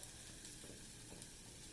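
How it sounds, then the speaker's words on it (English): A very faint, steady sizzle of shallots and garlic frying in cooking oil, soft and continuous, with no voices. "I add in a little bit of cooking oil, and then I'm adding in shallots and garlic."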